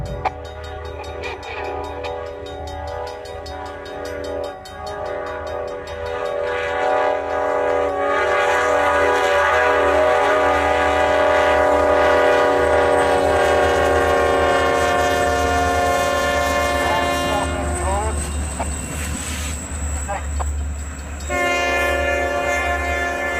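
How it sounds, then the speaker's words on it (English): A train running along a city street sounds a long, loud horn with steady tones that swell as it passes close by, over a low rumble of rail noise, with no talk. "I honestly thought I was seeing a train cruising right down the middle of the street"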